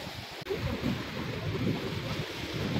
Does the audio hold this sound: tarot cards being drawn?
no